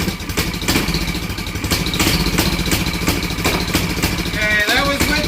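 A 440cc mini bike engine, a Baja MB200 with a makeshift exhaust, sputters and runs steadily with a rough, rapid putter on choke, close by, then briefly cuts out before catching again.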